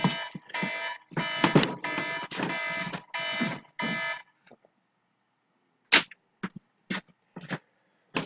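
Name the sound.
alarm clock going off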